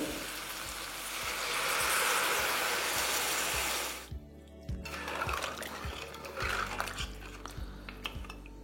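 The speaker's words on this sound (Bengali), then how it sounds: "দিয়ে দিন এখানে পরিমাণ মতো জল" Water pours into mutton curry cooking in a pot, making a steady rushing hiss for about four seconds that gives way to quieter bubbling, sizzling and scattered utensil clinks.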